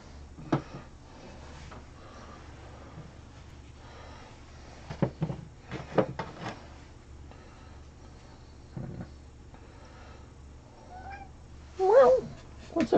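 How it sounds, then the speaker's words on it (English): A house cat meows indoors late in the evening during a craft livestream, a short rising call near the end after scattered soft thumps and handling noises in a quiet room. "What's up, cat?"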